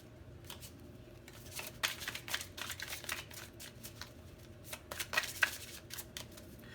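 Tarot cards are shuffled by hand in quiet, close bursts of riffling and flicking. The soft crisp card noises come in a steady stream with small sharper peaks and no voice.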